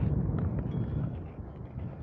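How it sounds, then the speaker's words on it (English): Steady, blustery wind buffeting the microphone, a low rumbling roar that holds throughout with no voices. "Whew. Windy."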